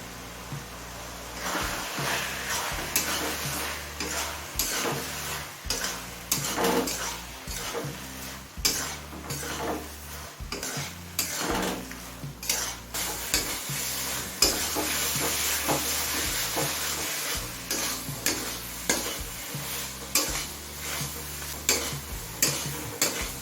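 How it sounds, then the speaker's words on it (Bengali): Fried potatoes being stirred into spiced chicken masala for chicken ghugni over medium heat, with a continuous sizzle under repeated scraping and clanking strokes of a spoon against the pan, close and steady, no talking. "এবার দিয়ে দিচ্ছি ভেজে রাখা আলু"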